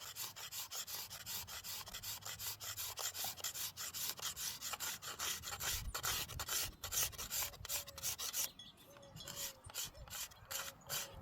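A blade scrapes along the wood of an 11th-century-style ash longbow in quick, rhythmic strokes, a dense run of rasping scrapes, fairly faint and close.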